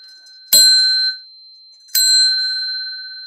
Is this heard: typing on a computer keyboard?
no